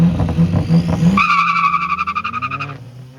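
A 2.3-liter single-turbo Ford Mustang races a 2023 BMW M2 on a street in Mexico, with a short tire squeal followed by a loud engine rev whose pitch rises and then fades, close by with no voices.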